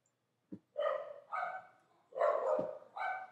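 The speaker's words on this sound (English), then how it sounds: "I have the loudest dogs" Several sharp, loud dog barks come close together in a quick burst, with a short yip at the start, against a quiet indoor background.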